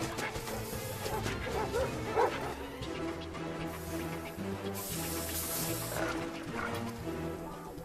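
Dogs bark, yip and whimper during a chase in an action film, a run of excited barks close by over a busy, noisy background, with bursts of spray-like hiss and a brief voice.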